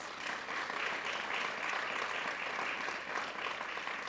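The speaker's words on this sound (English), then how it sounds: "Let's give them a round of applause." Steady, even applause from a small audience at a holiday parade press conference, continuous clapping at moderate volume heard from a little distance with no talk over it.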